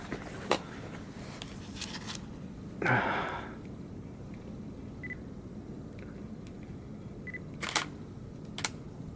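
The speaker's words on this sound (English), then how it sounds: "test out the shutter button." A few sharp mechanical clicks spaced apart, with one louder snap of a Nikon D600/D610 DSLR shutter midway, fitted with a battery grip, against a quiet room hush.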